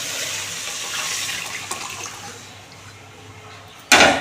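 Lentil cooking water poured into a cooking pot: continuous splashing flow that gradually eases, then a sudden louder burst of splashing at the very end.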